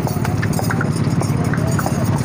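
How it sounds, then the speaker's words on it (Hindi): A dancing horse at a livestock market stamps its hooves in quick, irregular clip-clops close by, with someone speaking over the sound. "लो जी घोड़ा देखो डांस कर दे हैं"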